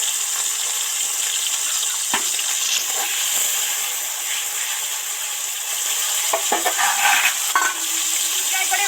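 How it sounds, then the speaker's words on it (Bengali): Slices of bitter gourd frying in hot, lightly salted oil, giving a steady loud sizzle throughout with a few sharper crackles and scraping stirs near the end. "সবার আগে এই উচ্ছেটা তেলের মধ্যে দিয়ে দেবো"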